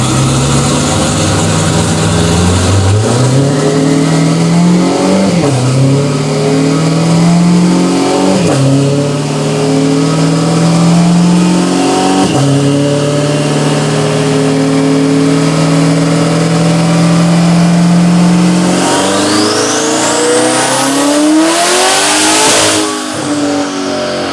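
A 1250 HP twin-turbo Corvette C8 with a choppy cam, tuned on a dyno, revs loudly and continuously at close range, its engine note climbing and dropping through several pulls before a final high sweep, with no talking.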